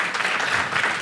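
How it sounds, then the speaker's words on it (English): An audience applauds at a package design workshop, steady dense clapping lasting the full second at moderate loudness with no talking over it. "Can we give a little round of applause here for this beautiful work?"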